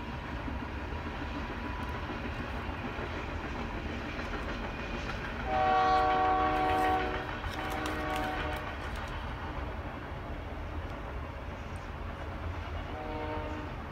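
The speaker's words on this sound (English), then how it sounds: "And here come the trains for today." Trains roll past with a steady, rumbling clatter throughout, and a loud, sustained train horn blasts midway before fading back into the rail noise.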